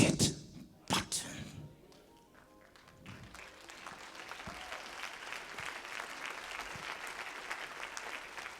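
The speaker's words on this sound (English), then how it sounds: "Come on, believers, clap your hands, clap your hands." A church congregation claps hands during a sermon. A few loud sharp claps come first, then a steady, dense patter of many hands clapping builds and continues under a faint murmur.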